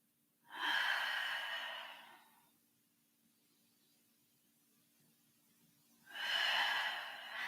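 Two slow, deep breaths during a yoga flow, each a long airy rush lasting over a second with a quiet pause between, close and clear with no talking.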